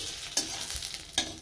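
Fish frying in a pan in a home kitchen, with a steady hiss of hot oil broken by two sharper spatters or stirring scrapes, close and alone without talk.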